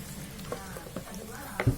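Banana nugget ingredients mixed in a bowl, with soft close stirring and scraping and a few light knocks, brief and without talk.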